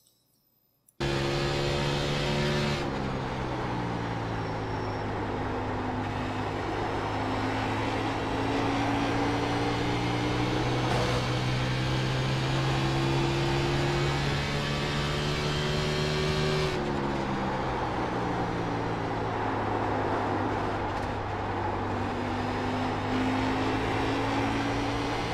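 A race car engine drones steadily through a full lap of Phoenix in the iRacing simulator, loud and close from the cockpit, its pitch rising and falling with throttle and gear changes and never letting up.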